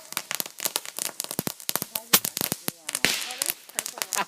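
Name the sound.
bottle rocket firework launching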